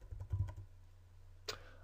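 Keys on a computer keyboard are tapped to enter a title in Adobe Premiere, a quick cluster of soft clicks followed by a pause and one sharper keystroke, set over a faint steady hum.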